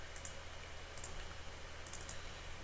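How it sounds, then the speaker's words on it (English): Computer mouse on a Raspberry Pi desktop giving small, faint, crisp clicks in quick pairs and a triple over a quiet room hiss, with no talking. "That's just clicking, dragging and releasing."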